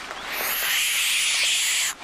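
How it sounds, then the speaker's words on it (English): A baby barn owl gives a loud, sustained, raspy hissing screech up close, holding steady for nearly two seconds before cutting off abruptly. "the baby barn owl that was brought to us in the last episode"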